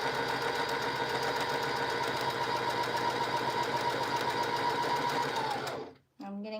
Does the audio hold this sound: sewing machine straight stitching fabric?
yes